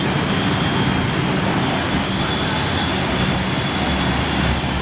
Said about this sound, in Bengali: আমাদের ট্রেন চলে এসেছে।